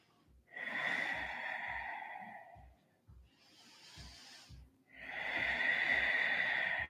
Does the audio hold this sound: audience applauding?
no